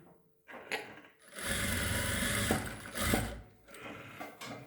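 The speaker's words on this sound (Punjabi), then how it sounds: "ਬਾਕੀ ਤੇ ਆਪਾਂ ਸਲਾਈ ਲਗਾ ਦਾਂਗੇ ਇਸ ਤਰੀਕੇ ਨਾਲ" An electric sewing machine stitches fabric for a latkan tassel in close, steady whirring runs that start, pause briefly and resume, with soft mechanical clicks between bursts.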